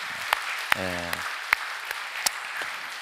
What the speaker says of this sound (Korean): 박수 한번 해드리시죠